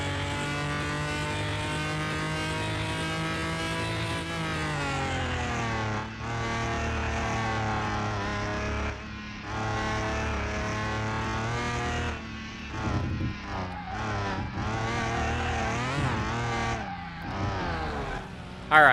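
In Car Mechanic Simulator 2021, a harsh, awful-sounding car engine drones and revs continuously, its pitch rising and falling with several throttle changes and a brief squeal, loud and close throughout.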